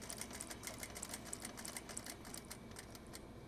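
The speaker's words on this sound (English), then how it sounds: "needle down, pivot, and then keep sewing the rest of the way" A sewing machine stitches fabric in a fast, even run of rapid clicks over a faint motor whine, heard close but quiet.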